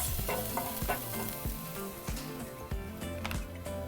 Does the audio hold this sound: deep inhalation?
no